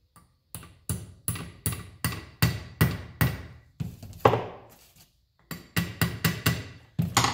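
Sharp metallic hammer taps strike a carburetor in a steady rhythm, about a dozen blows with a short pause midway, close and ringing.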